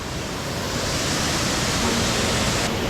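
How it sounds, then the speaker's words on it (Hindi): Ramrama waterfall near Balaghat, at the third step of its cascade, sends up a continuous, even roar of rushing water that fills the whole stretch. "देखिए जो मैं देख रहा हूँ इस वाटरफॉल का तीसरा स्टेप है"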